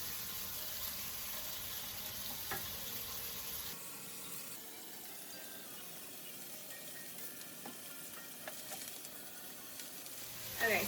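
Lamb chops sear undisturbed in a hot pan, a steady crackling sizzle that holds throughout at close range, broken by a few faint pops and light ticks, with no talking.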